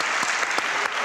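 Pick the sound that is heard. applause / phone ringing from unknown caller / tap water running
applause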